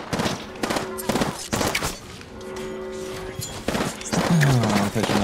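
Bursts of rapid automatic gunfire in the video game Apex Legends during a ranked match, loud and close in several volleys with short pauses between them. Players talk over the shooting.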